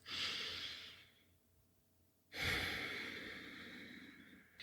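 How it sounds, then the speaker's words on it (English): A slow, deep breath is drawn in and let out with an audible airy rush, then a quiet pause before a second long inhale swells and fades, close and intimate with no talking. "take a nice deep breath"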